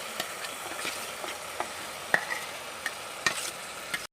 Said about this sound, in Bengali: এখন মশলার সাথে আমি আলু আর ঝিঙেটাকে কষিয়ে নেব